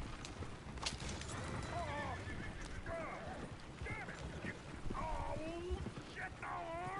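In the video game Red Dead Redemption II, a horse neighs and whinnies repeatedly over the clip-clop of hooves and rattling carriage wheels, several calls spread across the clip.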